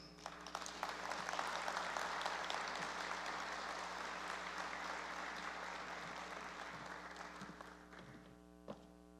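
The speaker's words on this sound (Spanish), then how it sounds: "lo recibimos con un fuerte aplauso" At a constitutional law congress, the audience gives the provincial governor a warm welcome of applause, a full, even round of clapping over a steady hum that fades out, leaving a few last claps.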